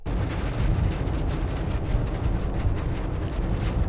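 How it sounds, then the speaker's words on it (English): Whipping, blustery wind sound effect made from distorted, wiggled paper for a car wind system in Unreal Engine 5, a dense, loud, continuous rush with a rumbling low end and gusty flutter, no voices. "Now the whipping sound you can hear if I go on the most intense one."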